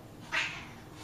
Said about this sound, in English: Where the cat's fighting in there.